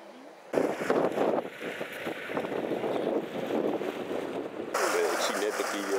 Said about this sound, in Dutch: Ja, daar komt de boot aan.